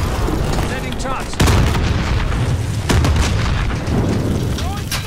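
An explosive charge detonates in a video game with a deep boom, followed by more heavy blasts and rumbling over a continuous loud din of combat, with voices in the mix.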